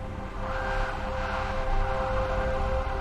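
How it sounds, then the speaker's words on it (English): A continuous police siren wails over a low rumbling engine drone, steady and fairly loud throughout with no talking. "loud police sirens filled the dark night air"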